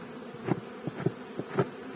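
Honeybees buzzing close by at an apiary in spring, several bees droning past in short swells over a steady background hum.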